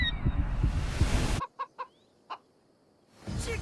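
In Assassin's Creed Odyssey, a chicken gives a few short, sharp clucks in quick succession after a burst of loud combat noise cuts off, then the busy game sound returns.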